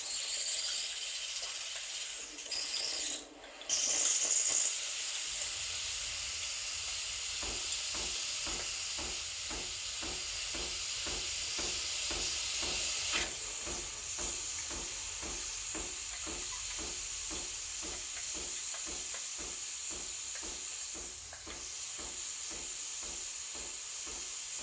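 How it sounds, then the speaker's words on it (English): A Breville Barista Express BES870 espresso machine's steam wand hisses steadily and loudly for over twenty seconds, a continuous close-up rush of steam with a rapid regular clicking pulse running underneath. "So you turn it on, you wait 10 or 15 seconds and it'll start steaming."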